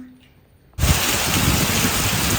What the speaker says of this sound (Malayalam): മഴയുടെ ശബ്ദം നിങ്ങൾ കേട്ടല്ലോ അല്ലേ?